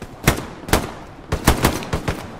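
Gunfire in the video game Hell Let Loose, a World War II shooter: several sharp shots ring out, two spaced bursts followed by a quicker cluster of three or four cracks, with no one speaking.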